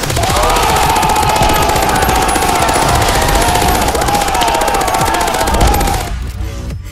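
Gunfire in the video game Sniper Elite 4, a dense, loud, continuous burst of shots running for about six seconds before cutting off abruptly, with no talking over it.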